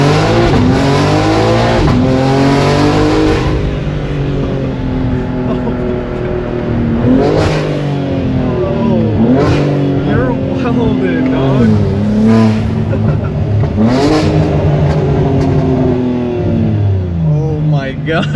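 A BMW M3 G80 Competition on a road in Tijuana, Mexico, accelerates hard with a loud rising engine note, shifting through gears in several climbing sweeps that dominate the cabin, with voices talking over it.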